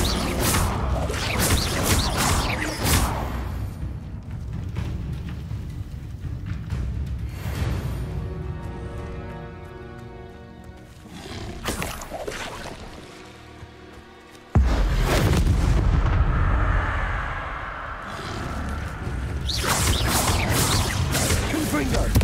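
Confringo fire spells blasting repeatedly in Hogwarts Legacy, loud bursts and whooshing impacts mixed with other spell effects and game noise, with a sharp heavy blast about two-thirds through.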